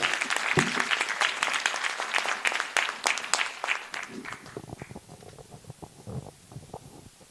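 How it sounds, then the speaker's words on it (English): Audience applause at a South African graduation ceremony: a loud, dense burst of clapping that thins out after a few seconds into scattered claps as a voice begins speaking. "Clap hands for Victor again"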